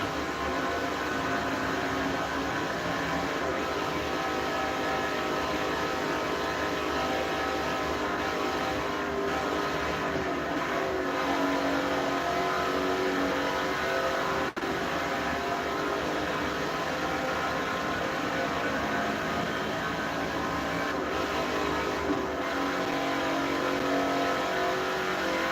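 Race car engines roar continuously in Forza Motorsport 4 on Xbox 360, a dense, loud, unbroken engine drone with revving swells and no gaps, without any talk over it.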